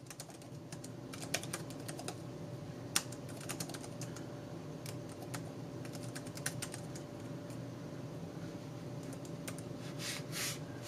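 Typing on a Remarkable 2 Type Folio keyboard case, a quiet, steady patter of soft key clicks heard close up against faint room hiss.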